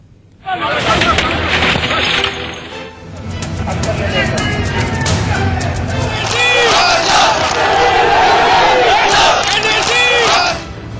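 Protest crowd during the CAA protests in India, loud massed shouting and chanting that swells and continues for several seconds, with a speaking voice over it.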